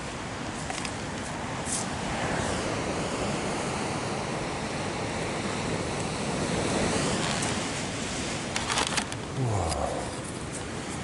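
Ocean surf rolling onto a beach, where metal detecting is underway: a constant, loud wash of breaking waves with gusts of wind buffeting the microphone throughout.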